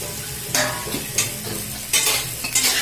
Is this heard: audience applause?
no